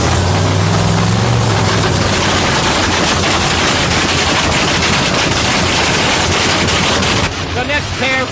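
Funny car drag racers roar down the track in a thunderous, crackling engine blast that stays loud throughout before a commentator's voice comes in near the end.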